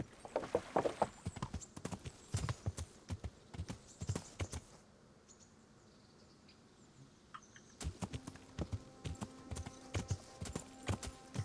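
Horse hooves clip-clop in Kingdom Come: Deliverance, a steady run of close, crisp hoofbeats that pauses for a few quiet seconds in the middle, then resumes with a faint tonal ambience underneath.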